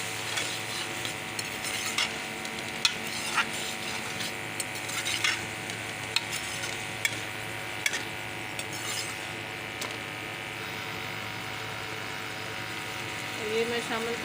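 Minced meat and bitter gourd stir-fried with ginger garlic paste, a steady sizzle under repeated spatula scrapes and clicks against the pan, close and continuous throughout.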